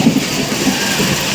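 Heavy rain pouring down outside a home, a dense steady hiss with a few low rumbling swells, loud and close with no voices.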